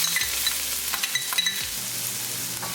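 Ginger and cumin seeds sizzle in melted desi ghee while a Shalgam chana dal tadka is made, a steady frying crackle with scraping stir strokes and light utensil clinks, close and with no talking.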